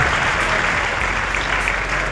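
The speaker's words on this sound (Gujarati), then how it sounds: "જોરદાર તાળીઓનો ગરગડાટ વ્યક્ત કરીએ" An audience at a public event in Mansa applauds loudly to welcome a speaker, a dense, steady burst of clapping from many hands throughout.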